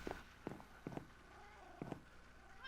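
A cat in a cat room gives several short, soft chirping meows in quick pairs, spaced irregularly against a quiet, faintly humming background.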